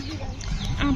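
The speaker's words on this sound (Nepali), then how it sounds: "आउने बित्तिकै कुखुरा पनि आइसकेका छन्" Chickens cluck close by at a home, with short, busy calls over a steady mix of background noise for about a second.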